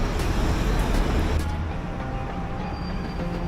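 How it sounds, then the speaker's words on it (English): Steady roar of Philadelphia city traffic near City Hall, engines rumbling close by with a dense, continuous wash of road noise. "look at this traffic. And it's so loud, everyone's beeping"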